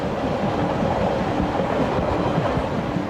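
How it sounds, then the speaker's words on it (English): Via Rail's Supercontinental passenger train number 4 cruises along the track through the Canadian Rockies, a loud, steady rumble with rhythmic wheel clatter, close and continuous without any voices. "Via Rail's Supercontinental Passenger Train number 4 is cruising toward Edmonton,"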